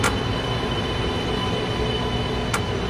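A Chinese CRH2A bullet train rolling along in the Train Sim video game, a steady loud rumble of wheels on track with faint clicks, no voices.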